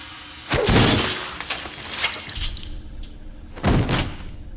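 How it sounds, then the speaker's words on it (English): A frozen human head smashing on a counter in a Friday the 13th horror film, heard as a loud shattering crash with scattered debris, then a second sharp smash a few seconds later. "Jason takes a scientist's head, dunks it in liquid nitrogen, and then smashes it on a counter."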